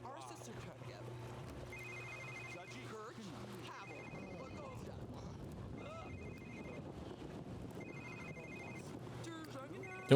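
An in-game telephone in The Sims 3 rings in repeated bursts about every two seconds, moderately loud over a constant background hum and game sounds.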